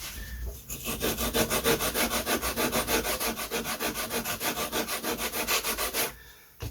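A coarse sanding block rubs back and forth over a wooden glider wing in quick, even strokes, about twenty rasping passes close to the microphone with no talk.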